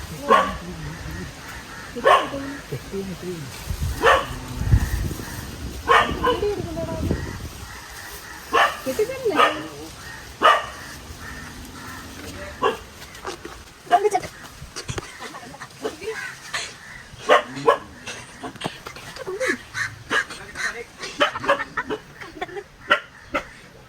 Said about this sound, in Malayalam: പട്ടി ചാടി കടിക്കല്ലേ